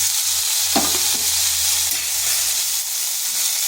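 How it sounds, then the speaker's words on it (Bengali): Sliced onions tossed into a pan of bitter gourd already frying in oil, a loud continuous sizzle and hiss with a brief stirring clatter near the start, close up and without speech. "করলাটা হালকা ভাজা হয়ে গেছে, দিয়ে দিচ্ছি পেঁয়াজগুলো।"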